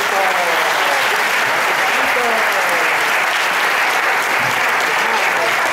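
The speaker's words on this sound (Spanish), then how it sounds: "Voy a pedir un aplauso para los cinco." An audience gives loud, sustained applause for five musicians at a live flamenco-style performance, dense hand-clapping filling the whole moment with some voices mixed in.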